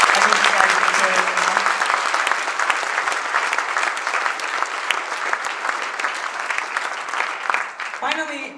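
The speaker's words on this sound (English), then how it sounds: "Please give them a huge warm round of applause." A crowd at a closing ceremony gives the parents warm applause, loud sustained clapping with scattered cheers that slowly thins, a voice briefly cutting in as it dies away at the end.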